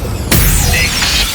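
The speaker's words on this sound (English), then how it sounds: "Explosions." A sudden booming explosion effect from a radio imaging sound library hits after a brief lead-in, followed by a loud, sustained rushing blast with swirling debris-like textures.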